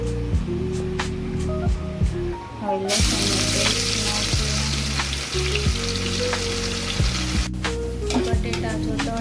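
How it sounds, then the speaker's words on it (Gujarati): Potatoes fry in hot oil with a soft, continuous sizzle, while loud background music plays over it. "બટેટા જો તળાઈ ગયા છે"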